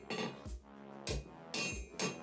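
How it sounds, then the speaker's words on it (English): A hammer forges a leaf shape on a metal bar, four ringing blows struck in an uneven rhythm at close range, each followed by a short metallic decay. "So I'll start forging on the leaf and just make a short point on the end of the bar."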